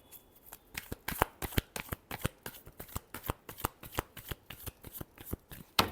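Tarot cards being shuffled by hand, a rapid series of crisp riffling snaps in an even rhythm, close and clear with no talk.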